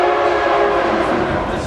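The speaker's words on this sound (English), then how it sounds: "That's a train." A passing train sounds its horn, a loud, steady blast with a rumbling rail-car roar beneath it that holds throughout the short stretch.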